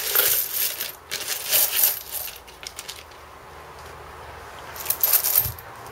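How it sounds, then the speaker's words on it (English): A bag of pennies is poured into a tumbler, a close burst of metallic clinking and jingling that comes in a few waves, then settles into quiet rattling before a final shower of coins. "I got another bag pennies right here. I just put it in the tumbler."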